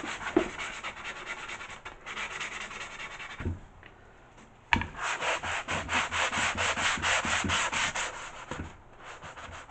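Sandpaper rubbed by hand over soft MDF wood, close and steady back-and-forth scratchy strokes, with a short pause midway before faster rhythmic strokes resume; no talking.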